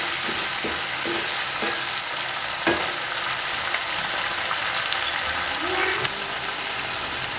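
Tamarind rice seasoning frying in a pan, a continuous dense sizzle with occasional stirring scrapes and knocks, close and fairly loud with no speech.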